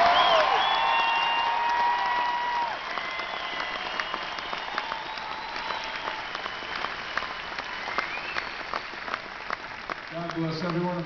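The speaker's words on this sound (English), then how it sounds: "how about a round of applause for a group of men and women who deserve it a whole lot more than we do" An audience gives a round of applause honouring United States Armed Forces members, dense clapping with some cheers that starts loud then settles into a steady, slightly softer wash.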